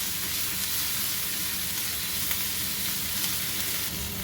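Garlic sizzling in a pan of Italian sausage for tomato pesto soup, a dense steady frying hiss held close and even with no other sounds.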